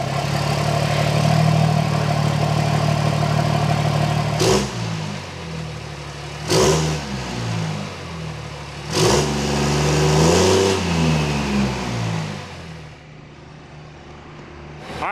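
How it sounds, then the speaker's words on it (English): A Cummins 5.9 diesel truck engine with dual S400 compound turbos and a D&J head, cold-started indoors, idling loud and close, then revved in several sharp bursts that rise and fall back to a rumbling idle. "let's give her a nice cold start in a cold climate-controlled environment."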